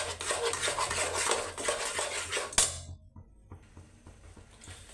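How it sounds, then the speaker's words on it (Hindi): Sweet potato halwa with about 400 grams of jaggery being stirred in a pan, a spoon scraping and clinking busily against the metal, ending in a sharp clink before the stirring turns quiet and sparse. "अब इसको चलाते रहेंगे मिक्स करके"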